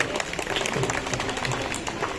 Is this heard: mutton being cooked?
no